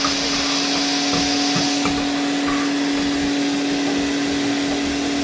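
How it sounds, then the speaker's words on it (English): A shop vac sucks dust out of a dryer vent, its steady, loud motor whine and rushing airflow droning on continuously with faint knocks of the hose. "I'm just gonna grab my shop vac. And then you can see vacuuming up all the dust."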